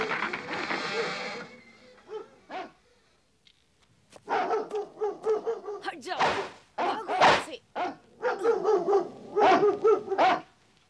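Dogs bark in short bursts, mixed with loud animated character voices in Hindi from a Jungle Book cartoon, with repeated sharp yips and barks clustering in the second half.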